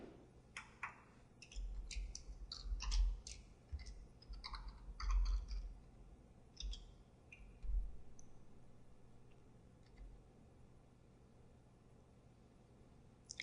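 Someone types a name on a computer keyboard while working in data-analysis software. Quick clusters of close, light key clicks come in bursts and then trail off into a quieter background, with no talking.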